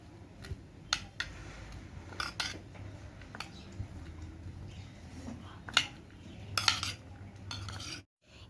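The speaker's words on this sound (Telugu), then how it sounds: "ఆ తర్వాత సన్నగా తరిగిన ఉల్లిపాయలు, కొంచెం కొత్తిమీర, కొంచెం పచ్చిమిర్చి, కొంచెం అల్లం ముక్కలు, వీటన్నిటిని మిక్స్ చేసుకోవాలి." Chopped onions, coriander, green chilli and ginger are mixed in a bowl, giving scattered light clinks and scrapes of a utensil against the dish at irregular intervals, quiet and close.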